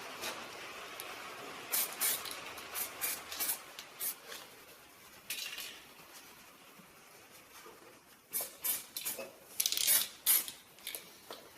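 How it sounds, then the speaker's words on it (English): Aerosol spray paint applied to the tops of bolts in a Land Rover workshop, heard as repeated short hissing bursts of varying length with pauses between, close and fairly loud, with a cluster of longer sprays near the end. "I just want to touch up the tops of these bolts so that they don't end up rusting on us"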